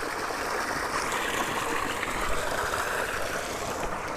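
Water pours from a motor pump into a tank on a cow-based farm, a steady close rushing and splashing that holds even and continuous throughout, with no voices over it.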